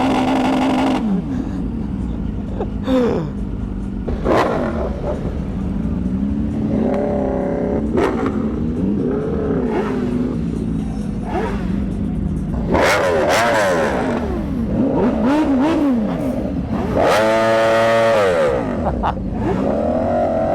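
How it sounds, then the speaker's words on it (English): A Lamborghini-style SV sports car's engine revs hard during launch control at a Las Vegas car meet, rising and falling in loud bursts over crowd noise for about twenty seconds. "Do the launch control for the people."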